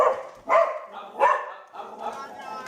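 A dog barks close by in a few sharp, separate barks, with whimpering yips between them.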